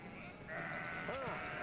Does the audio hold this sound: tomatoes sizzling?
no